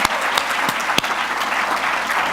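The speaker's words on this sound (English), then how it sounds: "big round of applause" A crowd claps steadily throughout at a community awards ceremony in Western Australia, a warm, even applause with a few sharper individual claps standing out.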